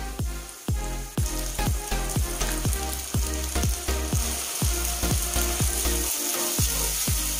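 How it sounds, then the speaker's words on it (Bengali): Onion frying in oil with ginger, garlic and cumin paste, a dense steady sizzle close by, broken by a quick string of regular scraping strokes as the spatula stirs through the pan. "পেঁয়াজটি কিছুক্ষণ ভাজা ভাজা হয়ে গেলেই তার মধ্যে দিয়ে দেব আদা, রসুন আর জিরে বাটা 2 চামচ"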